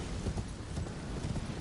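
Horse hooves clip-clopping in a video game, a quick uneven run of hoofbeats at steady moderate loudness over a rough background, with no talking.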